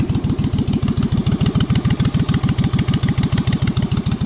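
A race mower's small engine idles steadily right after starting, a loud, close, fast and even lumpy putter with no talk over it.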